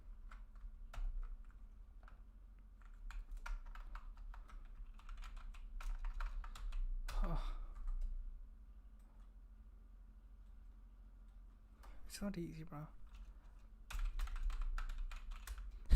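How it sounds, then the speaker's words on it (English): Bursts of typing clatter on a computer keyboard during a coding session, quiet, close keystrokes coming in irregular runs with pauses, and a brief spoken remark partway through. "I'm typing the same thing again and again."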